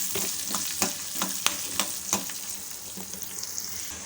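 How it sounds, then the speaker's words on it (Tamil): Curry leaves and spices temper in hot oil, a steady close sizzle broken by light stirring taps and crackles, fairly loud, with no talking. "கொஞ்சமாக கருவேப்பிலை சேர்த்துப்போம் சேர்த்து அப்படியே கலந்து விட்டுக்கலாம் இது எல்லாமே தாளித்து ரெடியாகட்டும்"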